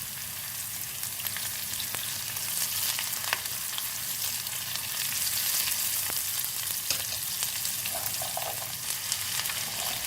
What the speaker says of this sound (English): Next, add 2 medium-sized chopped green chilies. Fry them till aroma comes out.